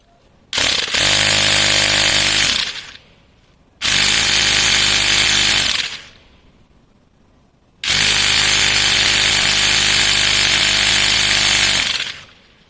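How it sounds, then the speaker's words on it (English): A portable tire inflator pump driven by a 12-volt battery runs loud and close in three bursts of a few seconds each, a harsh buzzing motor drone that cuts off between runs. "Let's connect it to 12-volt battery supply and see if the pump is running."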